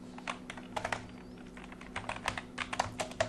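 Quick, fairly quiet typing on a computer keyboard, a rapid irregular patter of key presses over a steady low hum.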